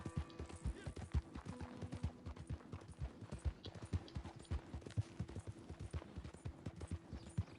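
Rhythmic clip-clop of horse hooves in Red Dead Redemption 2 Online, a steady trotting beat that carries on throughout with no talk over it.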